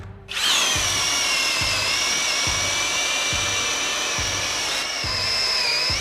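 A Flex cordless combo drill spins up sharply and runs at a steady high whine, loud and close, with a faint rhythmic thump underneath and a slight pitch dip near the end.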